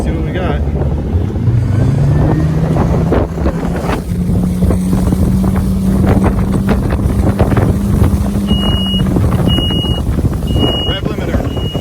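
A 2021 Sun Tracker Bass Buggy 16X boat's outboard throttles up on open water past the harbor, its engine tone rising and holding loud under steady wind buffeting, then a few short beeps near the end.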